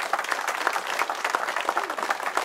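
Crowd applause for officials at a public works groundbreaking ceremony in El Fithzi, a steady, dense patter of many hands clapping without pause throughout.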